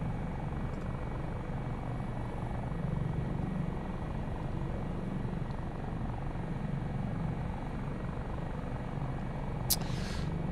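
A Dauphin helicopter in the MSFS 2024 flight simulator drones steadily through an offshore flight, with constant rotor and engine noise throughout, unchanging and alone, plus a brief faint click near the end.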